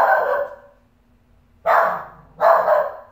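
A small dog barks three times with sharp, loud yaps, the first trailing off before a pause, then two more close together, all nearby with no voices over them.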